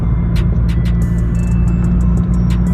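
A Vauxhall VXR with a loud modified exhaust cruises along at steady road speed, a continuous low engine drone and exhaust rumble running close and loud throughout, with faint higher rattles and ticks on top.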